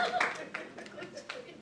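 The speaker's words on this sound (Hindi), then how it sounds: "ज्योति के लिए तालियां जोरदार" Scattered, brief clapping for Jyoti at a club general meeting, a few light claps fading out, faint in the room.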